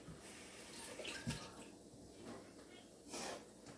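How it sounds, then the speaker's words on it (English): Running tap water splashing over hands being washed at a kitchen sink, a soft continuous rush with brief splashy surges, fairly quiet and close. "Let me wash my hand real quick."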